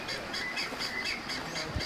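A large bird squawks repeatedly in loud, harsh calls that fill the clip, with a slight low thump near the end and no talking.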